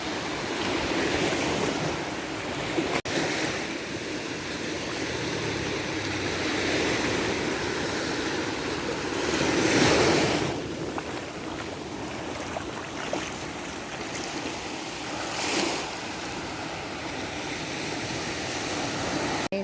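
Ocean waves washing steadily onto a beach near Saint Therese Chapel at Pico de Loro, a continuous broad wash with gentle swells and occasional louder surges, no talking.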